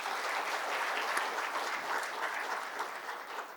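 Audience applause at an international Olympic research conference, a steady, fairly distant wash of many hands clapping that holds evenly for several seconds and tapers slightly toward the end, with no speech over it.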